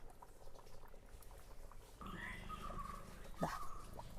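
A pot of home-style Kerala koorka curry at a rolling boil, soft bubbling and faint gurgles close by, with a brief higher liquid blip near the end and no speech.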